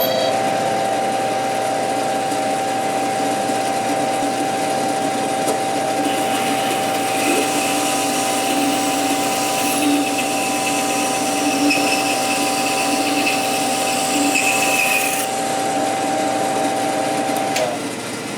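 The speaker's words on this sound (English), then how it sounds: "I'll just do it right here on the bandsaw." A bandsaw runs with a constant motor whine and blade hum while cutting a wooden knob for a woodworking jig, the loud steady drone rising slightly in grit as the blade bites the wood.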